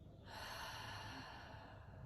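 A long, steady exhale from a seated person doing diaphragmatic belly breathing after a meal, a soft breathy rush that starts abruptly and holds evenly, close to the microphone with no talking.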